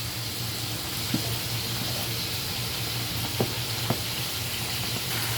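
A pot of dal with green chili, onion and garlic simmers with a soft, steady hiss, broken by a few faint knocks and clinks of a utensil; quiet and continuous.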